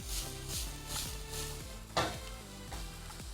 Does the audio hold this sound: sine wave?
no